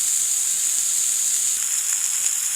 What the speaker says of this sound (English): Sounds like a nice sizzle.